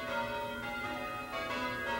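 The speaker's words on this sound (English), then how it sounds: "a gift of 8 English change-ringing bells for the church's tower" English change-ringing church tower bells, a ring of eight, peal in overlapping bright metallic strikes with a sustained ringing hum, clear and steady with no voices.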